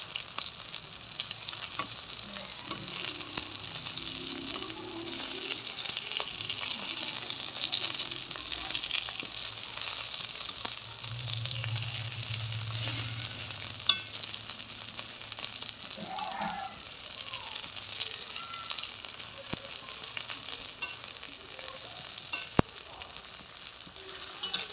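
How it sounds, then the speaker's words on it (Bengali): Brinjal sizzles steadily in mustard oil in a pan for a winter begun bharta, a soft, continuous crackling hiss with occasional faint stirring noises and no talking. "সবগুলো উল্টে পাল্টে খুব ভালো করে ভেজে নেবো। এবারে আবারও কিছুটা পরিমাণে সর্ষে তেল দিয়ে দিচ্ছি।"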